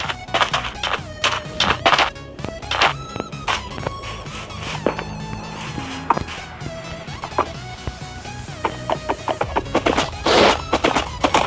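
Horse hooves clip-clopping in the Minecraft game, repeated tapping steps in uneven bursts with game tones underneath and no talk.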